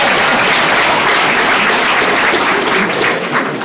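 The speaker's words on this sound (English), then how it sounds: "Applause." Audience applause at a Mandela Day inter-departmental outreach programme: a loud, dense, steady wash of many hands clapping that carries on without a break for the whole stretch, with no voices standing out.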